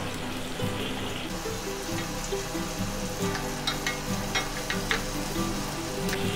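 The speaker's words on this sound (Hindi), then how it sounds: "आप देख सकते हो हमारी प्याज फ्राई हो रही है" Chopped onions sizzle steadily in a hot pan while being browned for dum aloo, a continuous close frying hiss with small crackles and pops scattered through, no talking.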